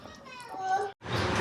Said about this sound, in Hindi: बच्चे शोर कर रहे हैं।